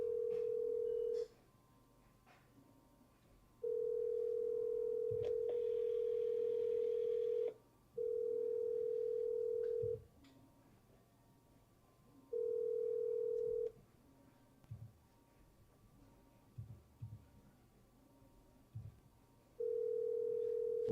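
A telephone line hums with repeated steady tones switching on and off in long pulses, with faint clicks and soft handling noises between them, quiet and close.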